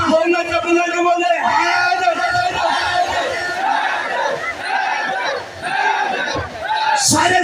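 A crowd at a religious gathering shouts the Naara-e-Haidri slogan in unison, a loud, massed roar of many voices that keeps going throughout, with brief dips between repeated calls.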